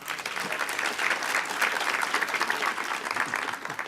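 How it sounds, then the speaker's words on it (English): An audience at a homelessness summit applauds, a dense, sustained round of clapping from a large crowd lasting several seconds. "so give yourselves a round of applause"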